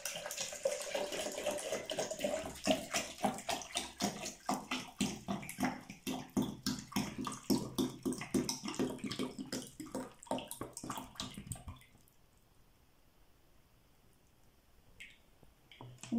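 Liquid poured into a container during a classroom capacity lesson, a steady splashing, trickling stream lasting about twelve seconds before stopping abruptly, leaving near silence.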